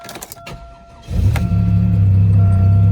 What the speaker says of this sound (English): Let's see if it'll crank for us, though.